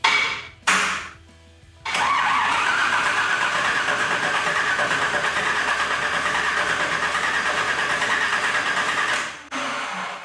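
A rebuilt Toyota LandCruiser engine cranks over without catching: a short starter burst, a pause, then a long rhythmic whirring crank lasting several seconds before it stops, close and loud.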